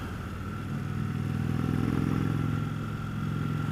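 A 2015 Indian Chief Dark Horse V-twin motorcycle engine rumbles steadily at a held rev, a deep, throbbing low drone with slight rises and falls, close and unbroken.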